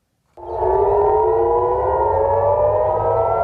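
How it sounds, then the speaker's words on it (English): An air raid siren wails over Tel Aviv during a rocket attack. It starts abruptly after a moment of quiet, then holds a loud, steady, sustained tone to the end. "Sirens and explosions filled the air over Tel Aviv this morning"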